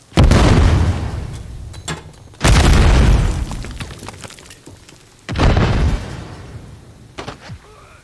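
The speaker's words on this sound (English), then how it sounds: "Stun grenade out." A stun grenade goes off in the Modern Warfare 3 video game, with three loud booming blasts spaced a few seconds apart, each decaying with a ringing tail and faint game noise between.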